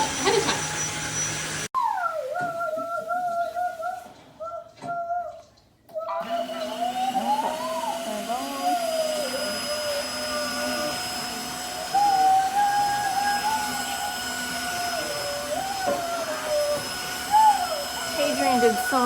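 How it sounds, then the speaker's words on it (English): A Tineco iFLOOR 3 Breeze cordless wet-dry vacuum runs steadily across a floor scattered with gravel, a continuous near motor whine with tonal hum and brief dips, with no talk. "It's a really nice vacuum as well."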